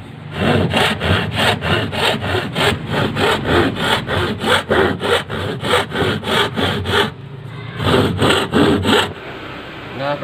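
A hand saw cuts through wood for an acoustic guitar fingerboard in steady, rhythmic back-and-forth strokes, loud and close, pausing briefly before a final run of quick strokes.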